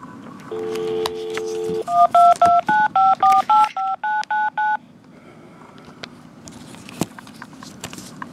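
A phone number being dialed on a touch-tone telephone: one long tone, then a quick run of about ten short keypress beeps at an even rhythm, followed by faint quiet hiss.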